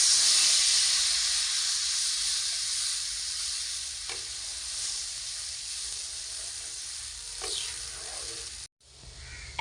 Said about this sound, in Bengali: এখন আমি ছেঁকে রাখা তেঁতুল জল দিয়ে দিচ্ছি